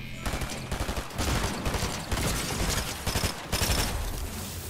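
Rapid bursts of gunfire aimed at a barrel in a shooter video game, clustered shots in several loud volleys with brief gaps, a voice faintly underneath.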